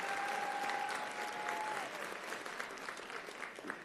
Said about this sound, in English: Can we give Rebecca a round of applause for her award as well?